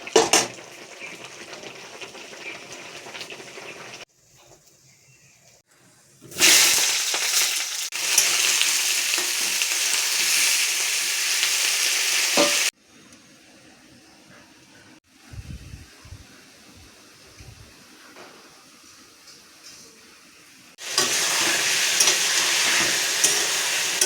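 Egg curry bubbles and fries in a pan in bursts of loud sizzling, separated by quieter gaps with soft clinks and stirring scrapes.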